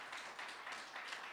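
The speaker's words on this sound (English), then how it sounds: "One more round of applause, please." Audience applause at a lecture series event, a quiet, distant wash of many hands clapping that swells and dips slightly over a short stretch.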